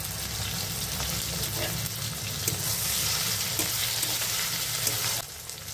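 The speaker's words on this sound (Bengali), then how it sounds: "টমেটোগুলোকে বেশি ভাজবো না, 2 মিনিটের মতন ভেজে নেব।" Tomatoes fry in oil in a pan after browned onions, while a fish curry with potato and eggplant is being cooked, giving a steady, close crackling sizzle with occasional stirring scrapes that drops slightly near the end.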